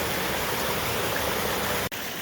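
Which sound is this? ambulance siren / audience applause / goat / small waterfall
small waterfall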